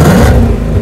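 A 2018 Ford Mustang Shelby GT350 with stock exhaust revving, a loud, close, steady engine roar that eases slightly partway through.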